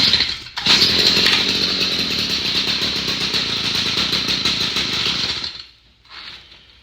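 Small gasoline engine on a piece of power equipment roars steady and loud for about five seconds, close by, with a saw-like buzz, then quickly dies away to a faint sputter before a brief weak tail.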